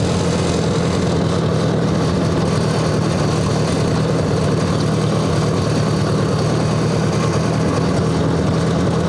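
A 1958 Ford 851 tractor engine runs steadily while unloading a pallet of sand, giving a continuous, near, moderately loud low rumble with no one talking.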